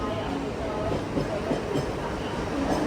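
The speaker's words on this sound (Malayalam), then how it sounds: "നമ്മുടെ ട്രെയിൻ ഇവിടെ വന്നിട്ടുണ്ട്." A local train at a busy railway station near Dadar, with a steady low rumble and faint rail clatter filling the whole stretch and a crowd murmuring underneath.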